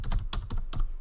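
Two-finger typing on a computer keyboard: a handful of separate, irregularly spaced key clicks, close and clear with no voices.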